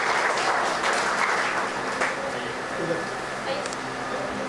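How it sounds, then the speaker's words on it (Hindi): An audience at a Human Rights World Environment Day event gives a guest a hearty round of applause, dense continuous clapping that stays loud throughout with crowd murmur underneath. "मैं चाहूंगा जोरदार तालियों से उनका स्वागत करें।"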